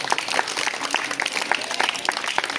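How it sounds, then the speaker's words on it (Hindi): A crowd claps in steady, dense applause, fairly close and continuous throughout. "तालियां बजा लो आप सभी।"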